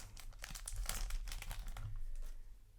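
A foil Cardfight!! Vanguard booster pack from the Genesis of the Five Greats set being torn open: continuous close crinkling and crackling of foil wrapper with sharp tearing snaps, moderately quiet, with no voice.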